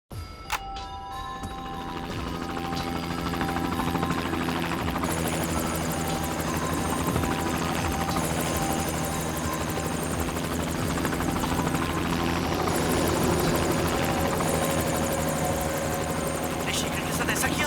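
A helicopter in flight, played back from a black box recording, whirs with a steady, loud rotor-and-turbine drone that holds throughout. A faint chime sounds near the start, and voices talk over the drone.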